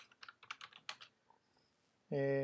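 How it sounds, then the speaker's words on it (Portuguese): Typing on a computer keyboard, a quick run of close, crisp keystrokes in an irregular rhythm for about two seconds, then a loud electronic tone abruptly takes over at the end. "Posso digitar alguma coisa aqui explicando o que é essa pasta."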